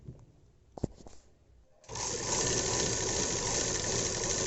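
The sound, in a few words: sewing machine stitching folded sleeves of a box pleated dress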